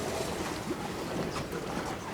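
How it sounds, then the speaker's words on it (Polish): Whitecap waves breaking on the Baltic Sea off the end of a pier at Kołobrzeg on a windy winter day, heard as a steady, dense wash of surf and gusting wind that stays loud and unbroken throughout, with no voices. "Takie fale grzywacze się robią"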